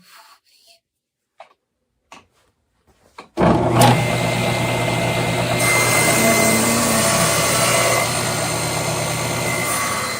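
A table saw runs up and cuts wood, starting abruptly after a few quiet knocks and then holding a loud, steady roaring whine through the rest of the clip.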